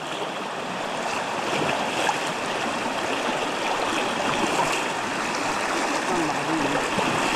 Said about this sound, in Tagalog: malaki utol ang tubig